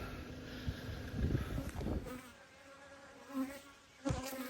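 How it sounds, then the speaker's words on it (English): Honeybees buzzing around hives at an apiary in a freshly baled hay field, a soft continuous drone of insects close by, with occasional louder passes and outdoor ambience, no talk. "got a lot of bees up this end"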